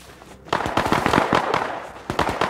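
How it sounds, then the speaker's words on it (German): Gunfire in the survival video game Rust, a rapid string of sharp cracking shots in quick bursts, fairly close and loud, with a short pause before the last burst. "Das sind Schüsse."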